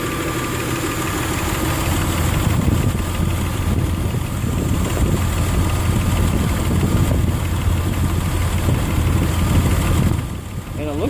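Nissan Xterra engine idling after a timing belt replacement, a steady, continuous rumble close by with even pulsing throughout.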